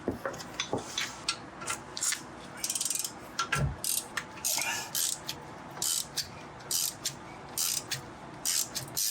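Ratchet wrench loosening 13 mm bolts on the inside of a Chevy Impala during wheel bearing and brake work, giving rapid bursts of close, sharp clicking with short pauses between strokes.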